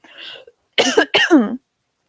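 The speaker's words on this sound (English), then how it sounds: "I have a lingering cough from the flu" A faint rasp, then two sharp, harsh coughs from a lingering flu cough in quick succession, close and loud, followed by silence.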